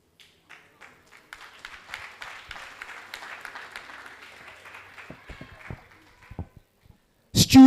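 Workshop audience clapping for a participant, starting as a few scattered claps, swelling into steady applause, then tapering into isolated claps before a loud burst at the end.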